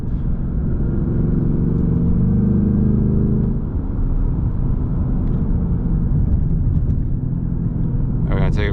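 A 2024 Mustang GT drives a curvy road, its engine a steady low rumble with cabin road noise throughout and a person talking over it.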